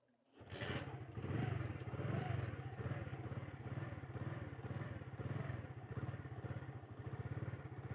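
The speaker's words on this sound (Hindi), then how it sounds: "बाइक को स्टार्ट करते हैं और चलते हैं" A motorcycle in a village starts up and rides off: a short starter burst, then a steady, close, chugging single-engine idle and pull-away with a regular putter, loud and alone.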